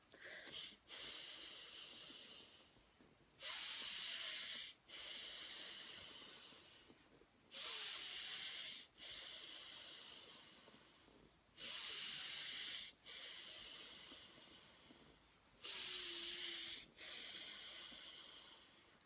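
Slow deep breaths during a breathing exercise: about four long hissing inhales and exhales filling and emptying the lungs, each several seconds long with short pauses between, close and fairly loud with no talk.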